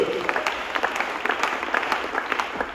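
A church congregation claps together in praise, a steady patter of many hands kept at a moderate distance, with a voice faintly audible underneath.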